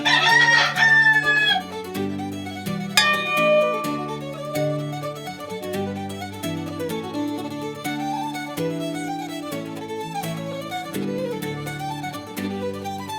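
A rooster's crow rings out loudly at the very start, then gives way to a steady musical backing with a regular beat that continues to the end.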